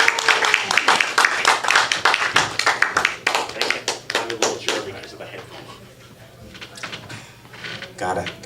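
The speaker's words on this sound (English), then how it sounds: "Start clapping it up for Drew" An audience claps for a performer at an open mic night at the Brew House, with dense, close applause that thins out partway through, then rises again briefly.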